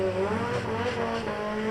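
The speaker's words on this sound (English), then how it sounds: "we got Keith Sigamani in his VW Mark 1 2-liter 16-valve turbocharged" A VW Mark 1 drag car with a turbocharged 2-liter 16-valve four-cylinder and rear-wheel drive roars loudly and steadily at a drag strip, its engine note rising continuously through the launch.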